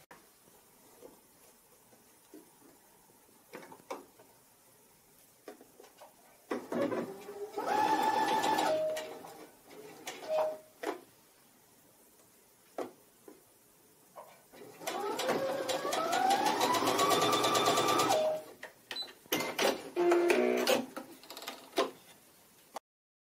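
A sewing machine runs in two loud sustained bursts while staystitching along a fabric edge, with quieter handling clicks and pauses between runs and birds faintly in the background.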